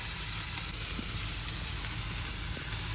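Paneer, pepper and vegetables stir-fry in a pan, giving a loud, continuous sizzle and hiss with faint stirring scrapes throughout.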